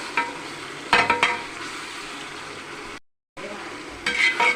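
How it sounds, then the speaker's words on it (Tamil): Onions, tomatoes and green chilies sauté in a hot pan for chicken biryani, a steady close sizzle with a few clattering stirs of a utensil against the pan and a brief silent gap. "இது நல்லா வதங்கிடுச்சு."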